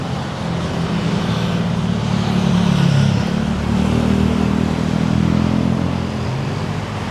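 A car driving past on a street in Hua Hin, Thailand, a loud steady engine rumble that swells and fades over a few seconds, with no talk.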